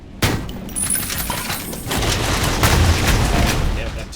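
Missile launcher fire in the retro shooter Ion Fury: a sharp blast followed by a rumbling barrage of booms and explosions that swells and holds loud, with a player's voice talking faintly.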